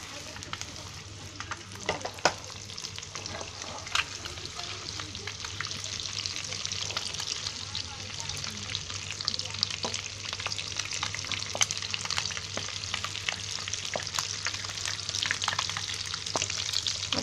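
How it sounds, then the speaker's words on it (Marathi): Stuffed eggs fry steadily in a kadhai over a high gas flame, a continuous crackling sizzle with faint scraping from stirring, close and even throughout. "असे भरून आता त्याच्यामध्ये फ्राय करून घेणार आहे"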